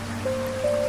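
Steady rain falls with a soft, even hiss, under a sustained gentle musical tone.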